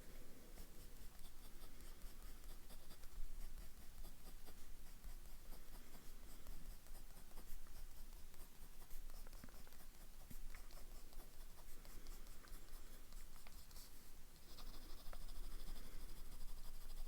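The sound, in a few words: writing with a medium nib fountain pen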